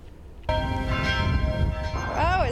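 Church bells ring at St. Joseph Catholic Church to celebrate the election of Pope Francis, a sustained, resonant peal that starts abruptly and rings on steadily, with a voice briefly speaking near the end.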